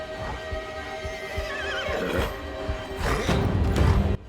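Horse in a Viking-era movie scene, with a loud shrill whinny in the middle among hoof clatter and rough movement, the neigh rising then trailing off before heavier thumping at the end.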